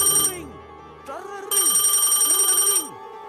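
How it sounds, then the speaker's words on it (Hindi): An old-style telephone bell rings from a phone booth in long bright trills, stopping briefly and then starting again, with low falling tones sounding underneath. "फोन बूथ से घंटी की आवाज तेज होती गई"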